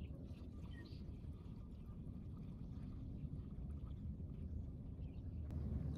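Garlon 3A herbicide and water poured together into a container to mix, a steady, continuous liquid rush close by, running unbroken throughout.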